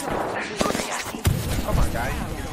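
Gunfire in the battle royale shooter Apex Legends, with two sharp shots standing out among rumbling thumps and game noise, while a player's voice talks across the mix.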